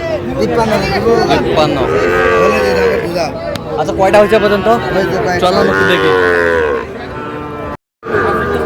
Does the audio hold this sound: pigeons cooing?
no